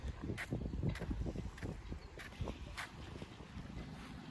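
Steady gusty wind rumbling and buffeting outdoors by the seaside, with low blustery roar and occasional crackling noise throughout.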